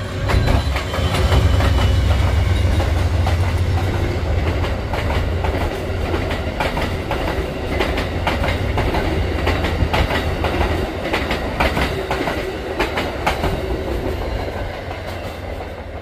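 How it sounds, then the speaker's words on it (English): An Amtrak passenger train rolls past at close range near the rail tunnels at Gallitzin, Pennsylvania, with a loud continuous rumble and rhythmic clickety-clack of wheels over rail joints that holds steady throughout. "Here comes Amtrak, I believe."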